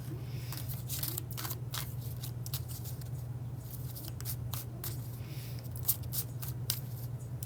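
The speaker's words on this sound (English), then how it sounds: "shuffling the cards back in the deck from a different reading" Playing cards being shuffled back into a deck after a tarot reading: soft, irregular riffling and sliding flicks over a steady low hum, close and fairly quiet, with no talking.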